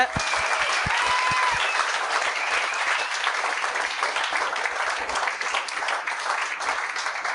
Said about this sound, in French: bonne main d'applaudissements pour Dominique Paquette et Dave Roy.